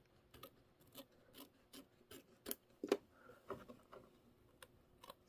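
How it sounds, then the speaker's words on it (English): Scissors snip through quilting fabric in a steady series of close, crisp cuts, with small rubbing and rasping between the strokes and no voices. "we're going to trim this fabric up here"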